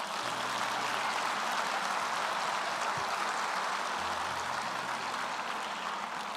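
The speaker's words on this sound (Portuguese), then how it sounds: "dê um aplauso a Jesus." Congregation applause during a church service, a dense steady wash of clapping filling the whole stretch at an even level, with faint low murmur underneath.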